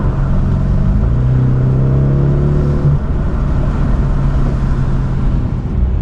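Steady low exhaust rumble from a BMW 650 Gran Coupe in sport mode, heard with the window rolled down, loud and continuous with a brief rising drone early on.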